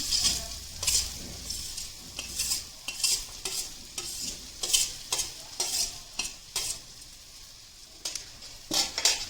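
Bitter gourd coated in besan, cooked with onions, stirred in a pan: repeated scraping strokes of a spoon against the metal, about a dozen in a loose rhythm, over a soft sizzle, close and with no voices.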